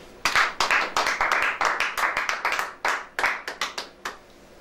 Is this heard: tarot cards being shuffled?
no